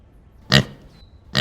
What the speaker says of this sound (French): Porcin.